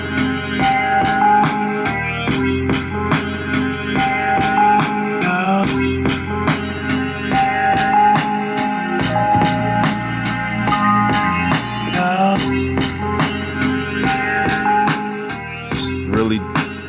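Hip-hop beat programmed on an MPC Live II, a looping sample under layered, punchy drums with a steady repeating four-bar pattern, loud and continuous with no talking.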